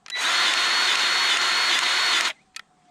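A Milwaukee or DeWalt electric grease gun runs with a loud, steady motor whine for about two seconds, then cuts off abruptly, followed by a faint short click.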